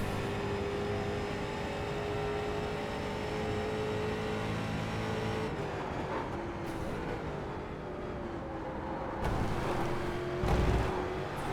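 A street stock car in the iRacing sim at the Charlotte Roval, its engine droning steadily at high revs, then dipping and climbing again as it accelerates, loud and continuous with no voices.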